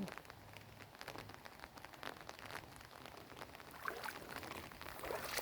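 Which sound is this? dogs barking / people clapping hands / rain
rain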